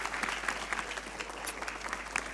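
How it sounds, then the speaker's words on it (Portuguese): Audience applauding at a Belém Palace event with judoka Telma Monteiro, a short burst of steady, fairly quiet clapping from a crowd, heard at some distance with a low hum beneath. "Um aplauso para ela."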